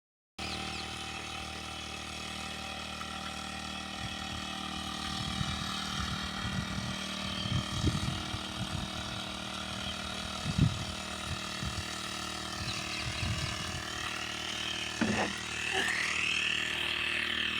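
A pesticide sprayer pump sprays Royal Bullet chilli plants. It makes a steady mechanical drone with repeated ratcheting pump strokes and clanks in the middle stretch.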